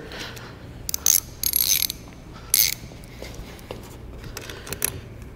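A ratchet wrench with a 10 mm socket clicks in short bursts of rapid ratcheting on a 2013-2018 Ram Cummins truck, a few quick close runs separated by pauses over quiet shop background.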